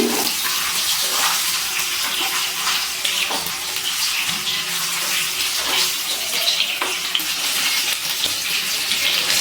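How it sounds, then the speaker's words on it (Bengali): Eggs frying in oil in a pan over a medium gas flame give off a steady, close, crackling sizzle that runs unbroken the whole time, with no talking. "গ্যাসের ফ্লেমটা মিডিয়ামে রেখে ডিমগুলো ভেজে নিচ্ছি।"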